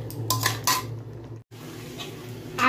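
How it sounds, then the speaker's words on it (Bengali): A spatula stirs potatoes with spices in a pan for Bengali niramish chhanar kofta, making a few close metallic clinks and scrapes against the pan, then a short pause before the stirring resumes. "এবার আলুগুলোকে দিয়ে ভালো করে মশলার সাথে আমি আলুগুলোকে কষিয়ে নেবো"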